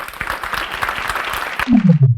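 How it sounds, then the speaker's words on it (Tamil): A school audience claps for a student named Yashika at a Tamil Thirukkural speaking contest, a dense patter of applause that ends abruptly, followed by a short rising tone. "யாஷிகாவிற்கு ஒரு கைத்தட்டல் கொடுத்துருங்க"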